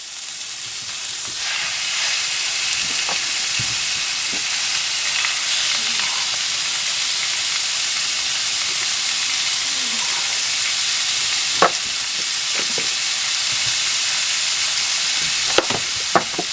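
Steak strips sizzle steadily on a Blackstone griddle, a loud continuous frying hiss with occasional small pops and scrapes near the end.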